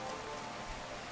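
Rain falls in the video game RimWorld, a steady close hiss of dense drops with no voices over it.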